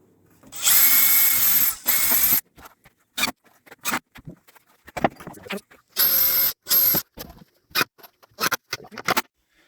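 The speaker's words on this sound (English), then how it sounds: "we are going to finish drilling" A power drill whirs in repeated bursts, two long runs followed by many short stop-start pulses as screws are driven into boards for a garden chair, close by.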